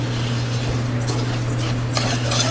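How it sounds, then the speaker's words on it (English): Arborio rice toasting in a pan for risotto balls, heard as a soft dry sizzle over a steady low kitchen hum, with a couple of brief stirring scrapes. "We're going to toast it in the pan."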